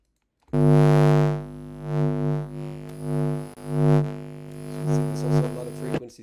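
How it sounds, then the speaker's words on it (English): A transformer or power plug in an apartment gives off a steady electrical hum with strong buzzing harmonics, close and continuous, swelling and dipping slightly in level over several seconds. "this here is the sound of one of the transformers, or one of the power plugs that's in this apartment"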